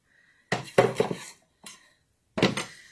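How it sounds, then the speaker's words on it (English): A kitchen tray scrapes and clatters as it is shifted across a counter, with a few sharp metallic clinks and knocks in quick succession, then a final clunk as it settles, close and clear. "I'm going to move this tray over."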